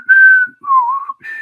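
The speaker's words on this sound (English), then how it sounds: "I'm gonna try to whistle it." A person whistles a short tune up close: three clear, sustained notes, the middle one lower and gently sliding, with no other sound around them.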